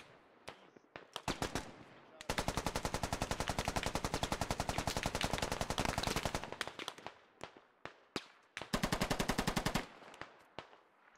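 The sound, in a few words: machine gun fire in Squad video game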